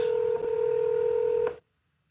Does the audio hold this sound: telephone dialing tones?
yes